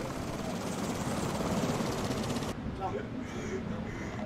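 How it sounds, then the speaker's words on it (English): Helicopter in a VR video game, a steady loud rotor and engine drone for a few seconds that cuts abruptly to a quieter muffled rumble, with excited voices talking over it. "Why the helicopter?"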